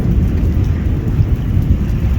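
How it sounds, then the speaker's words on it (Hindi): Thunder from heavy storm clouds over Jhelum city rolls as a deep, continuous rumble, loud and close, with the patter of light rain mixed in and no voices. "इनकी गरज चमक बता रही है कि इनके अंदर चार्ज बहुत ज़्यादा है।"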